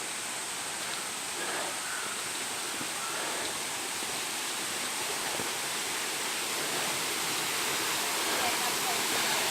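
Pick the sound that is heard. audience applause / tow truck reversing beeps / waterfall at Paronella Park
waterfall at Paronella Park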